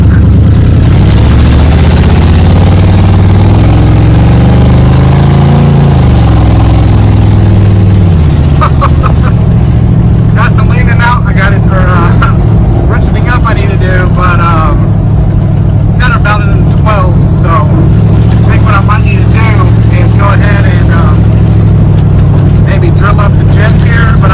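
A car engine fitted with a blow-through two-barrel carburetor idles with a steady low drone, then opens up to full throttle and holds a loud, sustained roar as people talk over it.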